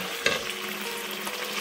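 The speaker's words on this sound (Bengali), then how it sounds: "তারপর দিয়ে দিচ্ছি আদা এবং রসুনের পেস্ট 2 টেবিলস্পুন দিয়ে আবারও মশলাটাকে কষিয়ে নেব।" Spices and ginger-garlic paste being sautéed for Bangladeshi chatpati, a soft steady frying sizzle with a brief stirring scrape near the start, close and continuous.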